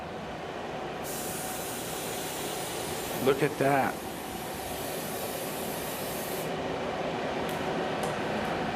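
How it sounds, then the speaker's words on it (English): A spray gun hisses as it paints modeling chocolate and fondant on a layered cake, a steady close spray lasting several seconds before cutting off, with a brief spoken remark partway through. "let's get to spray painting"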